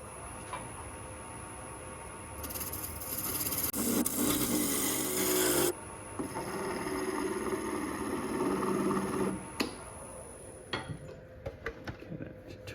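A wood lathe spins a maple blank while a tool cuts it round, giving a continuous rough rushing hiss that swells and drops between passes, close by with no talk.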